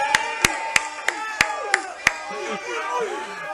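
A handful of sharp, separate claps ring out near a football awards gathering for a senior defensive player, followed by cheering voices and chatter from a small crowd.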